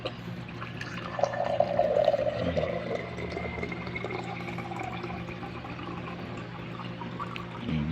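Water poured from a water dispenser into a tall glass, a steady close trickle and splash with the pitch shifting as the glass fills, no talking.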